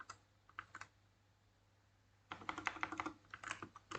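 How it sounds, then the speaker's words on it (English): Typing on a computer keyboard while running Kali Linux, a few sparse clicks, then a brisk burst of rapid keystrokes close to the microphone. "you want to type in search"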